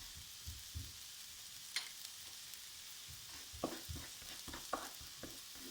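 Vegetables with mung bean sprouts fry in a little oil, a faint steady sizzle with scattered stirring clicks and scrapes of a utensil in the pan, no voices.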